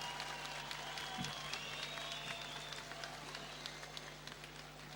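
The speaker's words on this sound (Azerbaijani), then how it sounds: "Alqışlayaq, alqış." Graduation ceremony crowd applauding in a university hall, a faint, steady patter of many hands heard from a distance under a low background hum.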